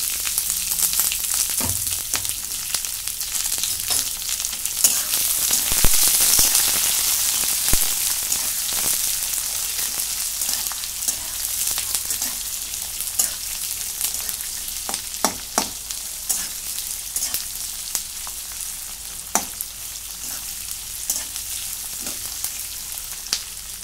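Peanuts and vertically sliced small onions sizzle and crackle steadily in a hot pan, a dense continuous fry with scattered sharper pops, close and fairly loud, with no talking.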